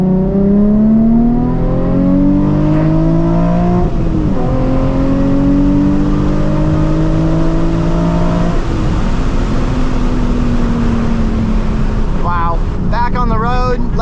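A Nissan 350Z HR accelerates hard on the road through several gear changes, the engine note climbing and dropping between shifts under heavy wind noise, loud and close, with a brief chirp near the end.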